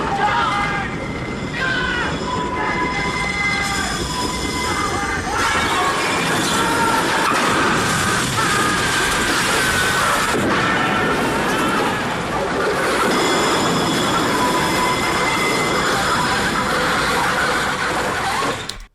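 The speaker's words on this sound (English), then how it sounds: "Look at the train." A train rumbles past loudly and steadily, with clattering wheels and high metallic squeals running throughout.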